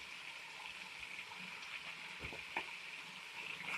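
Spices for Punjabi-style rajma curry fry in a pan with a steady, faint sizzle and a few soft stirring scrapes, no voices over it.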